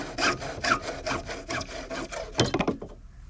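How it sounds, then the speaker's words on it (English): A hand saw cuts through a tube for a DIY kayak pole holder, making about a dozen steady back-and-forth strokes up close. It ends in a quicker burst and then stops. "So we're going to cut this at 15 inches."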